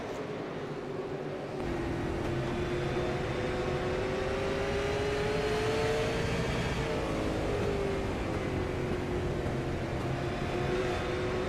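Race car engine droning steadily on the Oxford oval during a SARA One Eight national tour event, the Yacht Club Soda number 0 of Matt Rolfe, a continuous loud whine that rises and falls slightly as it laps, with no talking.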